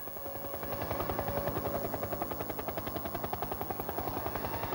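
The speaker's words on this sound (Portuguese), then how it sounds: "É o barulho das pás ali do helicóptero." Helicopter rotor blades thump in a fast, steady rhythm overhead at the 2002 San Marino Formula One Grand Prix, loud and fairly close, with a droning engine underneath and no voices.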